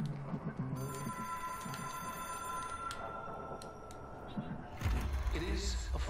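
An old-style telephone bell rings in the video game Control, a steady repeated ring lasting a couple of seconds at moderate loudness, with a person talking over it and game sounds around.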